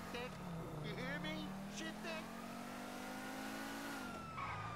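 A stolen car speeds away in a police patrol video game, its engine droning and rising in pitch as it accelerates, with a steady revving tone running beneath talking throughout.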